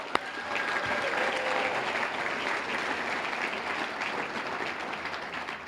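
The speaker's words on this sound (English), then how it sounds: "Let's give one more round of applause." Warm, even applause fills the room at the 2024 Silver Stars Awards ceremony as a pastor and his congregants are honored, steady throughout the few seconds with no talk.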